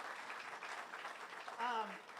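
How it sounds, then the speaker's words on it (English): Crowd clapping outdoors at a housing development unveiling, a faint, distant wash of applause that runs steadily under a voice speaking briefly near the end. "Can we just clap for the day, y'all?"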